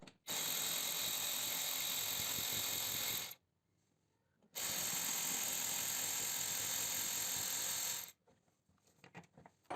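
A ratchet wrench loosens bolts on the front wheel-well cover of a raised Hyundai Accent with its front wheel removed, giving two long, loud, steady clicking runs close up, separated by a short pause.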